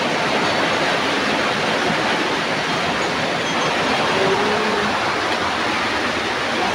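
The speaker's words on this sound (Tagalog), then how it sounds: "Lakas ng ulan." Steady, dense hiss of heavy rain pouring down continuously during a typhoon, loud and close, with no voices.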